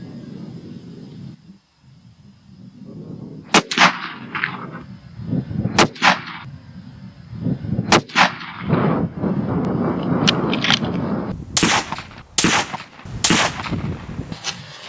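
Rifle shots fired with a NiteSite NS200 night sight mounted, a series of sharp, loud reports spaced irregularly, a few close together, each with a short echoing tail over a low outdoor background.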